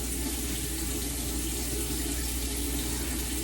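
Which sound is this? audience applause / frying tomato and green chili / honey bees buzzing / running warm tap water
running warm tap water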